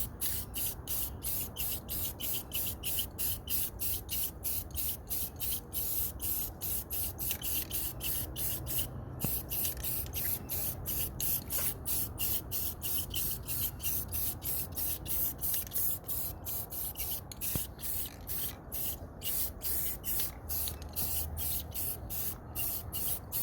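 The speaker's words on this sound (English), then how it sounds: "Gonna do some rattle can Dan action, baby." Rattle can spray paint misted onto a car radiator and valve covers, a long run of rapid, evenly spaced hissing bursts, close and loud, with no talking.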